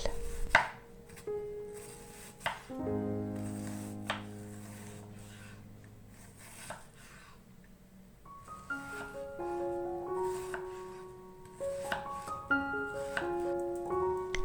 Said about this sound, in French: Je coupe 3 gros oignons en fines lamelles.